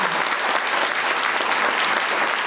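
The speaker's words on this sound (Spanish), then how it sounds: "Un aplauso para esta tremenda artista" Enthusiastic audience applause at a flamenco gala, honouring a flamenco artist: dense, continuous clapping from a crowd, steady and fairly loud throughout.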